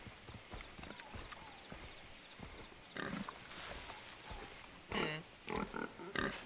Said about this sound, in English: I hear a tapir or a pig or something too.